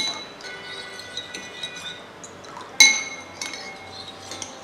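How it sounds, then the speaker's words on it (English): A spoon stirs a homemade leave-in hair conditioner mixture in a glass, giving scattered light clinks against the glass and one sharper clink partway through, close and fairly quiet with no talking. "So we'll stir very well"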